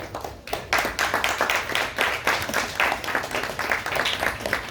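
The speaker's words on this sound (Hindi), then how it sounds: "एक बार जोरदार तालियों से स्वागत करिएगा।" An audience at a Hindi stage-play event welcoming the chief guest claps continuously and fairly loudly, with rhythmic bursts of many hands close by.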